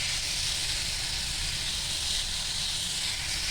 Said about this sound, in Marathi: आता हे बघ, ते पाणी जरा उकळू दे.